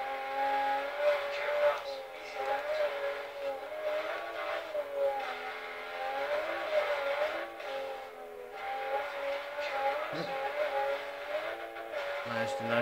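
A Toyota Supra 2JZ engine in a rally car in Forza Horizon drones steadily, its pitch wavering as the revs rise and fall. Moderately loud and close, with no pauses, and speech may sit faintly beneath it.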